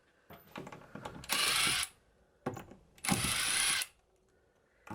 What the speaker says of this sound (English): So now we're just taking all the screws out.